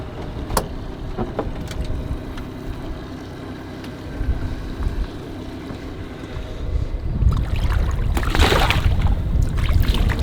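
Boat motor on the Sheepscot River during an early-morning striper fishing trip, a steady low rumble with wind buffeting the microphone, growing louder and rougher near the end.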